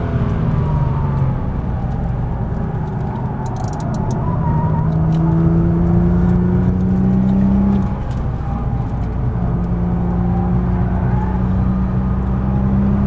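A Nissan GT-R on a race track accelerates hard under a loud, continuous engine roar with rising and sliding tones as the revs climb and the gears shift, close and steady for the whole stretch, with no talk.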